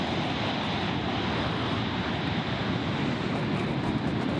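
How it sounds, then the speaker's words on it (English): An airplane at Gold Coast Airport roars past, giving a broad loud wash of engine noise that stays steady and dense the whole time, with no voices on top. "Sorry, Kurt, couldn't hear you over the plane."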